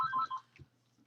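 Telephone ringing during a Minecraft gaming session, a short electronic ring burst at the start that quickly fades, fairly close and faint overall, with no one talking over it.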